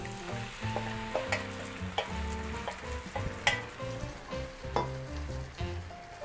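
Garlic frying in a pan for 1950s-style Spanish rice, a steady close sizzle with scattered crackles and soft stirring knocks, and no voices.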